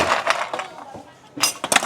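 Ice cubes drop into a glass of durian dawet at a street drink stall in Solo, producing a few quick, clattering clinks and rattles close by in two short bursts.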